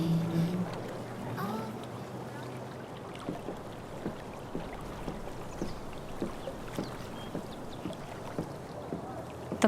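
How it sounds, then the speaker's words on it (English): A kayak is paddled across water in the game Life is Strange: True Colors, with soft rhythmic paddle strokes and splashes repeating about every half second over gentle wind and water ambience. "If not for the paddling, kayaking would be super relaxing."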